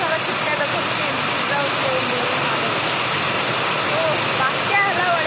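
Heavy rain drums steadily on a tin roof, a dense, continuous hiss and patter that stays loud and even throughout, with no voices over it.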